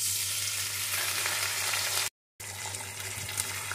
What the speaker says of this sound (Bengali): এখন এগুলোকে ভালো করে ভেজে নেব।